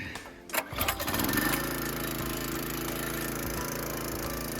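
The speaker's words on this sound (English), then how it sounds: "Time to fire up the engine." A small engine, used to power a wood splitter outdoors, is pulled and sputters briefly, then catches and settles into a steady, loud, close chugging idle that continues to the end.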